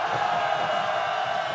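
Crowd at a candlelit anti-government protest rally shouting together in anger, a dense, sustained roar of many voices held steadily from start to finish.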